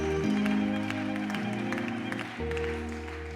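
A church congregation claps and applauds steadily during a service, and sustained music tones ring underneath throughout.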